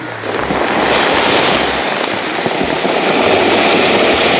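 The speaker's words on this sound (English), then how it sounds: "The sound of stone, the sounds of a beach in the making." Waves wash steadily over a stony beach in South Maui, Hawaii, a broad continuous rushing hiss with low wind rumble beneath, close and loud throughout.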